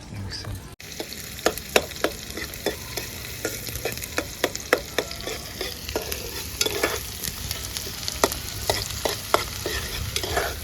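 Onions frying in a pot over a wood-fired clay stove for Agri-style chicken curry are stirred with repeated sharp spoon scrapes and knocks over a steady low sizzle, with no talk.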